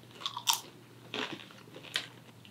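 Maple-flavored popcorn is crunched while eating, with three or four crisp bites and chews at close range, sharp bursts separated by short quiet gaps and no talk.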